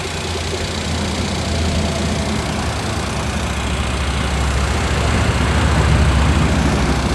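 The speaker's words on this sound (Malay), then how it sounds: "Okey, kita dah start enjin." A Perodua Axia car engine, freshly overhauled, idles steadily with a low, continuous rumble, close and fairly loud, holding an even level throughout.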